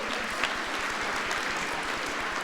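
Applause at an all-school assembly, a short burst of many hands clapping at moderate volume with a steady, even texture.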